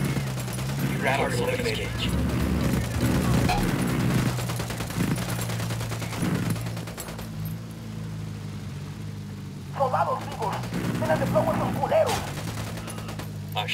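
Bursts of rapid automatic gunfire and explosions in the video game Ghost Recon Wildlands, continuous loud shooting over a low vehicle engine rumble, with a voice speaking through parts of it.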